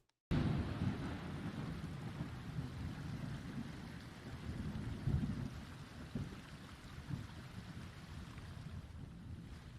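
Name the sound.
thunder in the Pantheon: Rise of the Fallen video game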